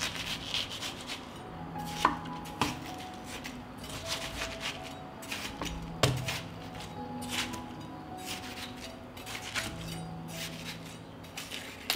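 A knife cuts and peels slices of watermelon with soft, irregular scraping and occasional light knocks against a board, faint and close, in a quiet kitchen.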